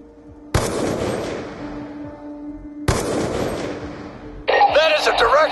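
Two loud single rifle shots in Black Ops 2, each one booming and then decaying slowly, with a tonal game score underneath and a voice coming in at the end.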